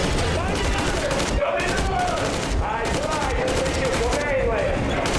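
Gunfire in the video game Metro Exodus: loud, rapid repeated bursts of shots in a steady rhythm, with game voices mixed in.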